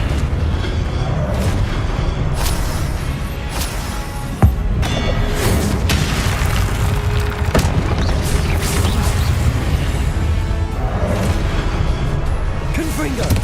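Repeated Confringo fire-blast spells exploding in Hogwarts Legacy: dense, loud booming blasts and crashes follow one another over a roaring background, with one sharp crack standing out partway through.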